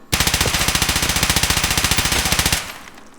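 A SIG MCX rifle in Escape from Tarkov fires a rapid automatic burst at close range: a loud, evenly spaced string of around thirty shots over about two and a half seconds, ending in a short decaying tail.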